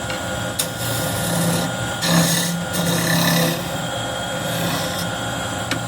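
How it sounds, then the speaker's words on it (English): A scraper cuts the end grain of apple wood turning on a lathe, giving a steady loud rasping whir with the motor's hum beneath and brief heavier scraping surges as the tool bites. "So now we get a scraper around those."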